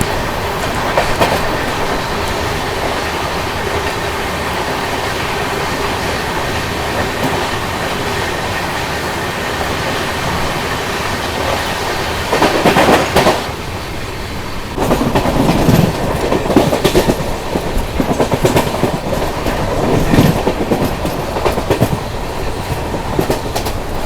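An express train runs on rails in India, the 12802 Purushottam Express, with a loud, continuous rumble and rhythmic clickety-clack of wheels over rail joints, close and sustained with bursts of louder clatter.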